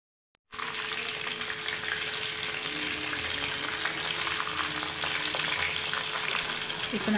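Chicken masala frying in a pan, a steady loud sizzle that starts abruptly and continues without a break, with faint stirring scrapes.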